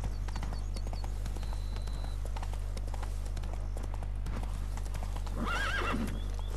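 Clip-clop of horse hooves with a whinny near the end, from a horse in The Witcher III video game, played at a low level over a constant background hum.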